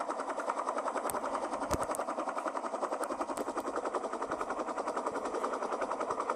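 Steady rapid rotor chop of a helicopter flying in the mobile game Real Gangster Crime, loud and continuous throughout, with a few sharp clicks or pops layered over the droning thump.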